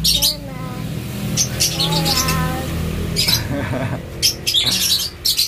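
Many small birds in a mini aviary chirp and squawk together in a busy, overlapping chorus, close and lively, with a low rumble of background noise underneath.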